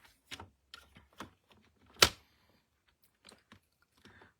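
Sharp, sparse clicks and snips of paper being cut for a handmade scrapbooking flip-flap card, close and quiet, with one louder crisp cut in the middle and irregular pauses between strokes.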